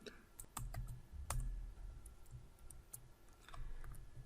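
Computer keyboard typing while writing Java code, a faint, close sequence of scattered key clicks with brief pauses between bursts.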